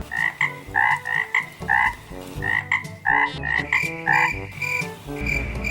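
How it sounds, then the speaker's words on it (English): Frogs croak after rain in a steady, repeated chorus, each call a short throaty pulse, loud and close, with no voices. "of the frogs after a rain."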